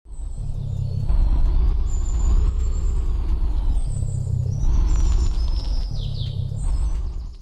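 A truck engine rumbles loudly in an offroad mud-driving mobile game, rising and falling in surges with sharp air-brake hisses and chirpy bird-like squeals over the top, no talk.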